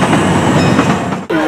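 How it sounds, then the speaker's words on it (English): A train rumbles past a level crossing with dense, steady rail noise and clattering wheels, loud and close throughout before a brief dip near the end. No one speaks. "I was talking about this level crossing and the trains are going by"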